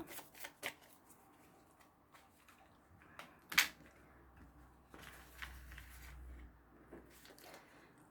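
Small oracle energy cards riffled and tapped in quick irregular bursts, close and fairly quiet, with one sharper snap partway through and a soft low rumble near the end.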